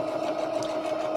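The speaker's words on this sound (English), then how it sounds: "So now I need to be sewing really snugly against the edge of my cord." A sewing machine runs steadily, stitching snugly along the edge of a cord, a close continuous hum and whir with no talk.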